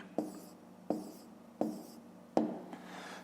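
Pen writing a fraction by hand on paper during a fifth-grade maths exercise: four short scratchy strokes in a steady rhythm, close and quiet, with no voices.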